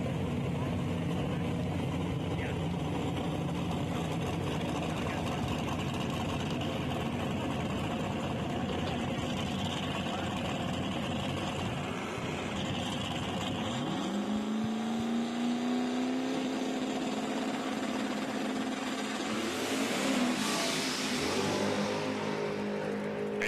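Drag racing launch at Shadyside Dragway, a matte black Chevy II and a nitrous car leaving the line; loud continuous engine roar with a rising revving tone midway and crowd or announcer voices underneath.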